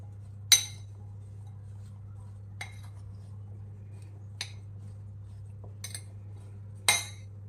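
Raw mango pickle mixed with chili powder in a bowl, making a few sparse, sharp clinks and scrapes of a spoon against the vessel, spaced apart over a steady low hum.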